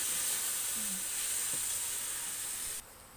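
Vegetables such as kale, celery and daikon radish go into a pot of Thai tom chap chai soup, giving a steady close hiss and sizzle that drops off abruptly near the end.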